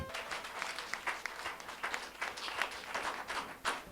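A church congregation applauding the Lord during a Sunday service, a steady wash of many hands clapping at close range with no voices.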